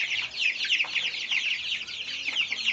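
Silkie chickens clucking in a barn, a dense flock of overlapping soft clucks and murmurs at a steady moderate level, continuous with no voices.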